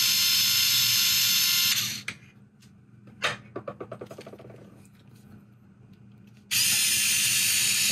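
A small power driver unscrews a grub screw on a billet suspension link, whirring loudly and steadily, then pausing with a short run of quick clicks before whirring again.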